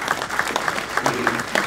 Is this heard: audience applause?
yes